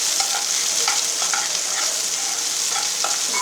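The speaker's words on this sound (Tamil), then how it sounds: "அதுக்கடுத்து ஆனியன், சில்லி போட்டுக்கோங்க. கொஞ்சம் நேரம் அப்படியே ஃப்ரை பண்ணிக்கோங்க." Onion and chilli fry in a pan for a Tamil chicken curry, with a dense, steady sizzle and frequent small scrapes and taps of stirring, close and unbroken by voices.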